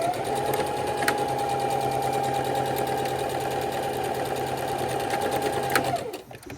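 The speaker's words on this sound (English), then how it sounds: "We're going to sew across without the strings." A sewing machine runs steadily and close, stitching across the back of the neck of an adult bib with a fast, even mechanical whir, then stops near the end.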